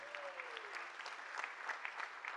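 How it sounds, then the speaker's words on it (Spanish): A church congregation applauds in a steady, moderately distant wash of clapping, with a brief voice near the start. "Un aplauso a la gloria de Dios."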